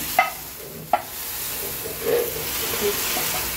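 Hot oil tempering (baghar) of fried onion poured into beef nehari, giving a steady soft sizzle and hiss with two sharp clinks near the start and a brief louder bubbling burst midway.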